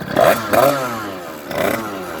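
A cold 2009 Rieju MRT Iron Max two-stroke motorcycle engine with an aftermarket exhaust, loud and close, giving a couple of quick revs, then a rasping idle and another blip.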